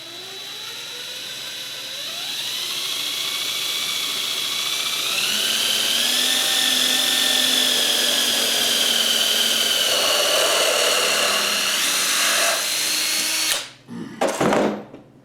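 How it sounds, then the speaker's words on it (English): A power drill whines steadily for about thirteen seconds, its pitch rising as it bores into wood, then cuts off with a couple of short bursts at the end. "I'm going to try to drill this without ruining the whole thing."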